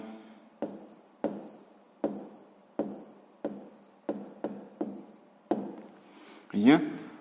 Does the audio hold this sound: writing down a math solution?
yes